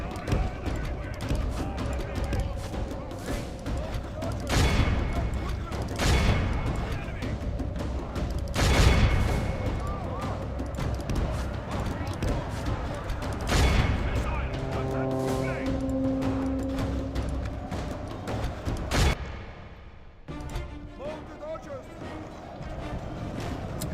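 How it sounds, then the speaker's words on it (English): Artillery barrage in the video game Medieval 2, heavy booming impacts and rumbling battle noise, with several loud blasts standing out over a constant din and a voice talking throughout. "I reckon it was that bloody artillery barrage."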